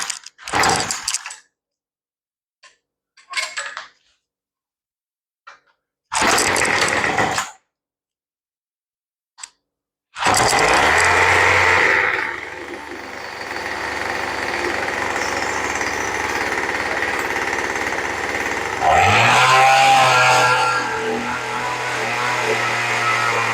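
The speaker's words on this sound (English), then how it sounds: "Let's run it a little bit more." A tiller's small engine that sat unused for two years sputters in short bursts, then settles into a steady close running drone with a rough, fast mechanical chatter and a shift in pitch near the end.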